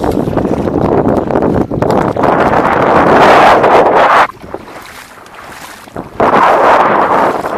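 A boat runs over shallow water on the Red Sea in strong wind, a loud, rushing wash of water and wind buffeting the microphone, dropping briefly to a quieter hiss before surging back.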